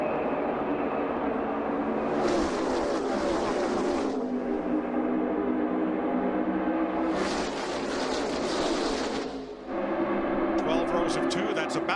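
Roaring NASCAR stock cars at the green-flag start of the 2011 Budweiser Shootout, a dense continuous engine roar with two louder surges as packs sweep past, loud and steady throughout.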